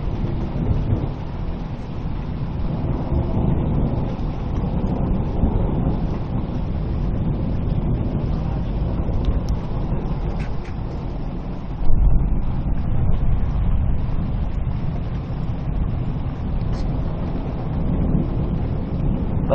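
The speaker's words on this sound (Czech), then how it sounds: "to je deště" Heavy rain pours down in a European thunderstorm as a loud, continuous roar, with a sharper thunder crack and rumble swelling partway through.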